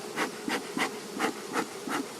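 Honey bees from a Carniolan or Buckfast colony buzz around an opened hive, a steady close swarm drone rising and falling in regular pulses of intensity, with no talking.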